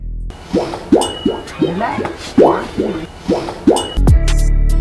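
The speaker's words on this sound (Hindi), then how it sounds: "अगर कोई भी व्यक्ति इन सीढ़ियों पर तेजी से ऊपर की ओर चढ़ता है या उतरता है तो इसके अंदर से ऐसी मधुर आवाज निकलती है जो कि पानी में पत्थर मारने पर आती है।" Footsteps on the stone ghat steps at Brij Ghat on the Ganga, each step giving a hollow, liquid plop like a stone dropped into water, about nine evenly spaced close-up plops.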